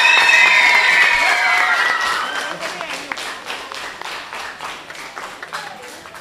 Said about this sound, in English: People clap for Miss Na.